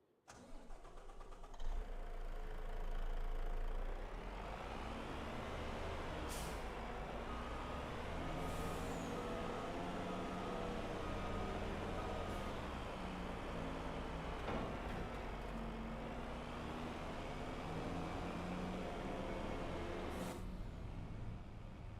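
A truck engine in a community farming video game starts and then runs at a steady, close idle, a continuous mid-pitched rumble that holds for the full stretch.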